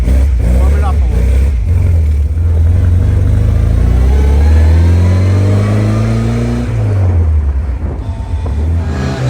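A 1956 Austin Healey 100M engine loud and close from the passenger seat on the road, revving through rising gear pulls with a shift around the middle, deep throaty drone; a voice speaks over it.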